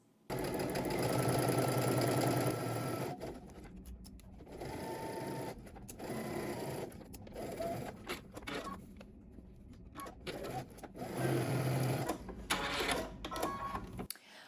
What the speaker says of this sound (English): Now we're going to head to the sewing machine and we're going to stitch using 5/8 of an inch seam allowance.